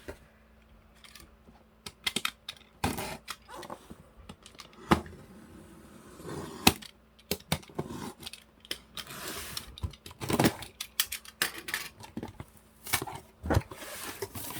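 A laundry detergent package, cold-water heavy-duty type, torn open by hand: irregular sharp crinkly rips and plastic rustles close to the mic, with pauses between bursts and no talking.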